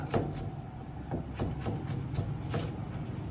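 A knife chops onion and tomatoes on a board in quick, uneven strokes, several distinct cuts close by over a dull scraping background.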